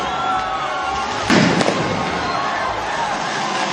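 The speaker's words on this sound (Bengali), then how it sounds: "একদিকে রং মাখছেন, একদিকে বিভিন্ন জায়গায় আতশবাজি ফাটানো হচ্ছে।" Fireworks burst across the country in celebration of India's Champions Trophy win over New Zealand, one sharp blast standing out over a steady crowd-like wash of noise.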